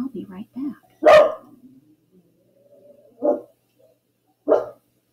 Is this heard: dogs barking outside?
yes